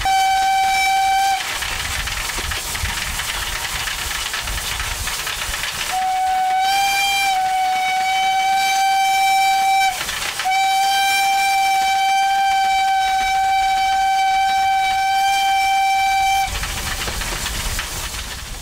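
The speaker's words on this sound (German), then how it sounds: "Mit lautem Pfiff kündigt sich der Zug im Bahnhof Gernrode an." A narrow-gauge Selketalbahn steam locomotive sounds long, loud whistle blasts as it arrives at Gernrode station, sustained tones broken by short gaps with rail noise between them.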